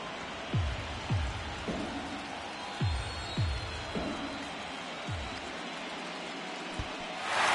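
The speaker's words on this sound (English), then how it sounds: "It is pouring down rain out there" Heavy rain pours down on Truist Park during World Series Game 5 between the Astros and Braves, a steady soft hiss broken by scattered low thumps, with faint crowd noise beneath.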